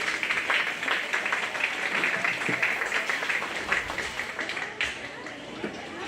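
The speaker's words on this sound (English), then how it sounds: "Give a round of applause for them." A county fair crowd applauds the commercial gilt champions of a livestock show, a fairly soft, continuous patter of many hands clapping in a large open space, fading toward the end.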